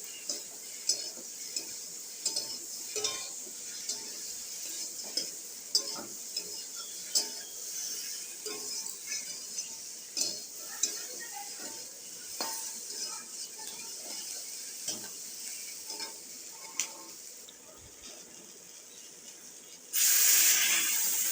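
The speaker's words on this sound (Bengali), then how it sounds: "এইভাবেই পাঁচ থেকে সাত মিনিট আমি খুন্তি দিয়ে সবজিগুলো নাড়াচাড়া করে নিয়ে মশলার সাথে কষিয়ে" A spatula stirs vegetables with spices in a pan, giving soft repeated scraping and light clinks over a faint hiss at moderate distance, ending in a brief louder rush of noise.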